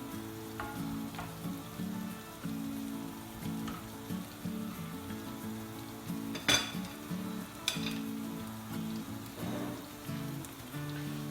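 Pieces of monkfish fry in a pan that is shaken now and then, giving a steady close sizzle with crackling pops. A few louder rattling bursts mark the shakes, and a low hum runs underneath.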